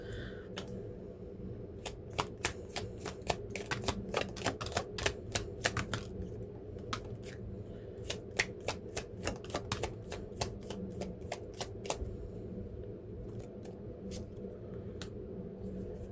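Tarot cards riffle-shuffled in quick rapid bursts, the crisp flapping repeating in clusters over a steady low hum, with pauses between shuffles.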